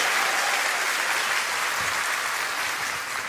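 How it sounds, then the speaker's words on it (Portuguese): Steady applause from a church congregation, sustained and fairly loud, the clapping blending into a continuous wash that fades slightly at the end, with no talk over it. "Pode dar uma salva de palmas ao Senhor, meu irmão"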